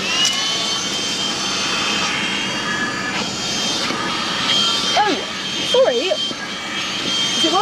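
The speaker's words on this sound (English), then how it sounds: "Shall I get the hoover on it?" A hoover cleans a car interior, a steady loud whining roar that runs throughout, with people talking over it.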